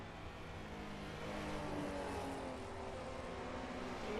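A race car engine, from a simulated race at Watkins Glen, drones continuously and fairly faintly, its pitch climbing gradually through a short stretch of acceleration, with no voices.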